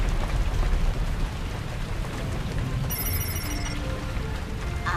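Rain begins to fall in an animated show, a dense hiss of raindrops with a low rumbling undertone, joined partway through by faint high tonal effects.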